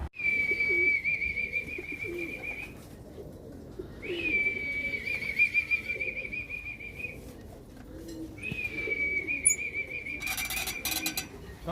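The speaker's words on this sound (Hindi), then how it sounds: "अभी आपको वो कबूतर भी दिखाते हैं" Pigeons in Germany call in three drawn-out, steady tones separated by short gaps, fairly close over a soft background rustle.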